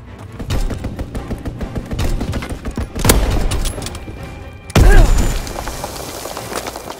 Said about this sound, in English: Strafing run, inbound.